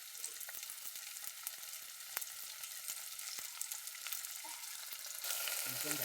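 Onion and garlic paste fry in a pan, a quiet, steady sizzle with sparse sharp crackles and pops, growing a bit louder and fuller near the end.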